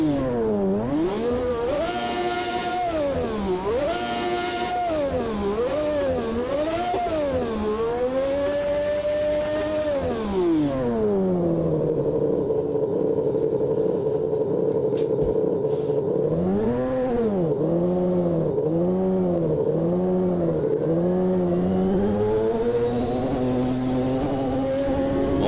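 A loud McLaren race car engine in the racing game Automobilista 2 on the historic Monza circuit whines up and down again and again as it accelerates and backs off, then settles into a steady high drone.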